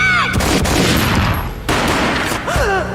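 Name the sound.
gunshot in Max Payne video game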